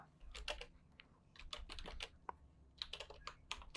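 Fingers type on a computer keyboard in irregular bursts of close, crisp clicks and taps, with short pauses between runs of keystrokes, fairly quiet and without talking.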